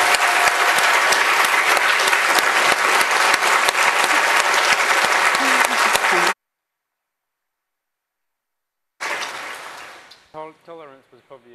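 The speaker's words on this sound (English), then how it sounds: "I'd actually like a round of applause for Stephen's." A conference audience breaks into dense, steady applause that runs loud for several seconds, cuts off abruptly, then a brief burst of clapping returns and fades as a voice begins speaking.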